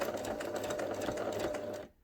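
A sewing machine stitching a seam through fabric, a close, fast and steady mechanical whir that runs without a break and stops abruptly at the end.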